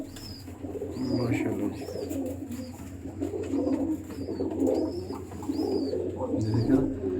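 Pigeons at a breeder's loft coo in a steady, low chorus, with repeated soft calls and chirps, while someone speaks briefly over them.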